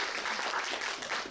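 Short burst of audience applause for authors at a bookstore event, steady dense clapping with a faint cheer, fairly quiet and brief.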